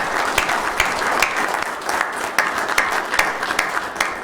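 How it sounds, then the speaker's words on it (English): An audience applauds for Lance Peterson at an honour ceremony, dense sustained clapping from a sizeable crowd that fills the room evenly, with sharper individual claps standing out. "please let's have a round of applause for Lance Peterson"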